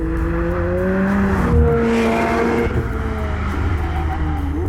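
A loud McLaren 720S engine roars steadily at close range while driving laps, its pitch rising and falling as it accelerates and shifts, with no voices.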